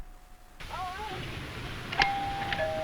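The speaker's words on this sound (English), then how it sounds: "Ding dong." A front-door doorbell in a 1985 Halloween trick-or-treat safety film gives a two-note ding-dong chime, clear and nearby over a low background hum.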